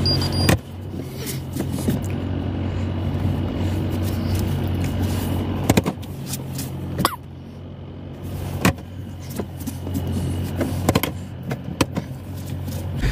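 A Toyota Revo pickup is driven out, its engine idling and humming steadily at close range, with several sharp clicks and knocks breaking in over the drone.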